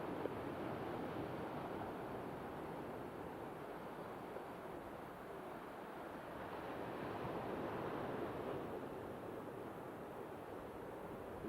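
Rough sea waves wash onto the beach at Warnbro Sound, a steady broadband roar of surf mixed with wind buffeting the microphone, continuous and fairly loud throughout with no talking.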